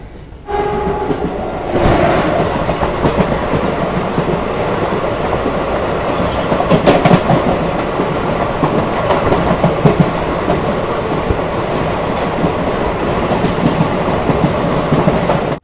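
Rumble and rhythmic clickety-clack of the Trivandrum-Shalimar Express with old ICF coaches, heard steadily and loud from aboard the moving train, with a brief horn-like tone early on.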